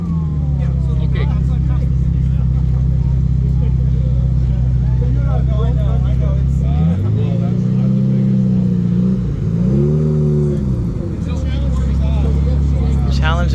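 A car fitted with a Challenge exhaust at a cars-and-coffee meet, engine droning loud and steady up close, then revving and rising in pitch twice in rapid surges before settling back.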